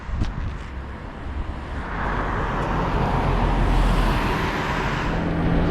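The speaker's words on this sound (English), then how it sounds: "You get a couple cars that come by" A car passes on a quiet road in Ha Long, Vietnam. Its rushing noise swells and stays loud, with buffeting wind over the microphone.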